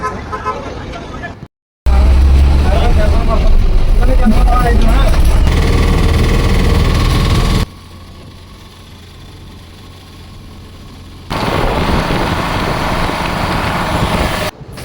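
Loud roadside traffic at a bus stop on the way to Kolhapur city, with engines roaring past and short horn toots over a constant rumble, the noise dropping and rising as vehicles come and go.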